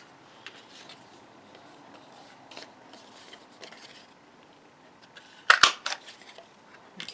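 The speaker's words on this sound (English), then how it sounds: "I'm going to punch the nose with the 1-inch circle punch." A 1-inch circle paper punch cutting a round nose shape out of cardstock for a Rudolph punch-art card gives a single sharp, close crunching snap, with a brief rustle after it, against a quiet background.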